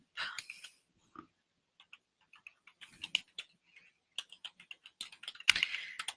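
Computer keyboard typing in a spreadsheet, a quiet close run of uneven key clicks with brief pauses between bursts and a heavier tap near the end.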